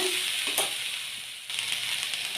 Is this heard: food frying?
yes